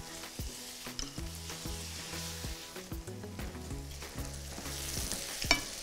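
Eggplant frying in hot oil in a pan gives a steady, close sizzle and crackle throughout, with faint background music-like tones and a sharper pop near the end.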